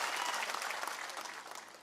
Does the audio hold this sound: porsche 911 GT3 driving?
no